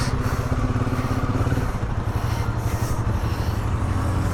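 A Royal Enfield Himalayan 450 motorcycle pulls out of a bus stand in monsoon conditions, its engine a steady, close, rumbling drone with a slight dip in the middle and no talking.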